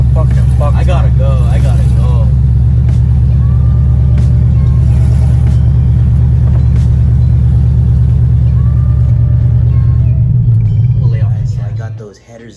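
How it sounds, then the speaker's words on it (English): A C6 Corvette running open long-tube headers rumbles at a loud, throaty idle that holds steady, then fades out at the end. Voices talk over it. "Everything's running open header right now, so it's super loud."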